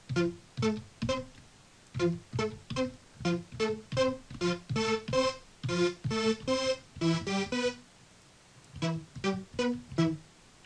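Bright, buzzy Sylenth1 synth saw plucks with raised decay and release in a quick rhythmic sequence, each note snapping on and decaying fast, with a short pause before the pattern resumes.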